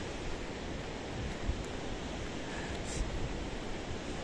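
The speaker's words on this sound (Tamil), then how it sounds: "காற்றுல வேறு அப்படியே தள்ளிட்டு போகுது." Steady, broad rushing wind buffeting the microphone near a cliff at night, loud and unbroken, with no voices.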